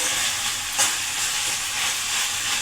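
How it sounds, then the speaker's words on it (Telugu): A broad bean and tomato curry is stirred in a hot pan, giving a steady, close sizzle of frying with a brief scrape of the spoon, and no talking. "ఇప్పుడు ఒకసారి మూత తీసి టమాటా కూడా మగ్గిందో లేదో ఒకసారి కలుపుకుందాం."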